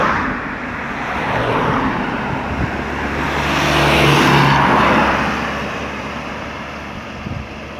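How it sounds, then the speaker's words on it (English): A new electric bus of the Barbados Transport Board, the government bus system, at Gun Hill, St. George, passes with a steady, low motor hum and road noise, swelling to a peak midway and fading. "those are one with new electric buses that is owned by the Barbados Transport Board"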